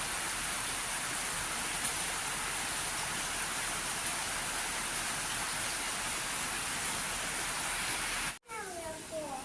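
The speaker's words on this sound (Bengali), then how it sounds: "বৃষ্টি যে নামছে রাত্রে হয়েছে এখন" Heavy nighttime rain pours in a constant, even hiss, then briefly breaks near the end, where faint chirping sounds follow.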